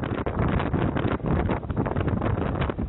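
Powerful wind with gusts up to 75 miles per hour roars continuously, with loud gusts buffeting the microphone and a dull, muffled rumble throughout.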